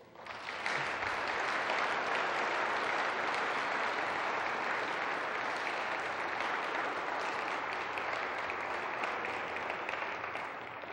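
A sustained round of applause from a conference audience honouring the head of MUFON, steady dense clapping at an even level for about ten seconds with no talking over it.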